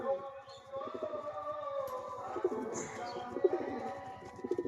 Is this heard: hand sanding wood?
no